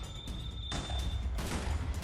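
Rapid bursts of gunfire and explosions in a modded Minecraft survival game, loud and dense, with one long blast followed by further booming volleys in quick succession.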